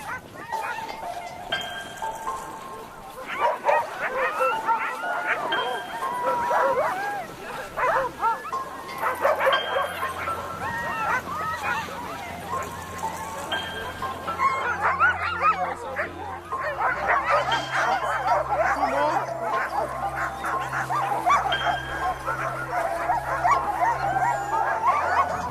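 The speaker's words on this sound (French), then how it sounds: "l'une des plus typiques reste le voyage en chien de traîneau." A pack of sled dogs barks, yips and whimpers excitedly, many animals overlapping close and far in a continuous noisy chorus, with low engine-like hum and occasional voices underneath.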